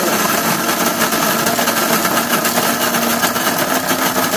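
A grinder runs loud and steady at close range, a dense continuous whirring roar with no pauses or voices.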